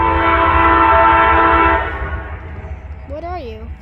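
A CSX freight train led by ES44 and AC4400 locomotives rumbles past loudly at close range, then the engine noise fades as a horn sounds briefly near the end.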